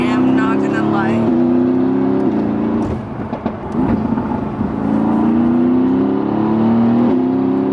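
An AMG GT sports car engine drones and revs, dropping and climbing in pitch as it downshifts, heard from inside over steady road noise at night.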